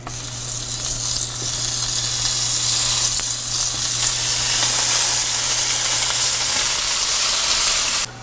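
Two thick slices of smoked bacon, made on a Kamado Joe, sizzle loudly in a very hot pan: an intense, continuous close frying hiss that cuts off abruptly near the end.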